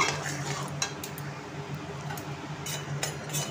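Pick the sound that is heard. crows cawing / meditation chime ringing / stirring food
stirring food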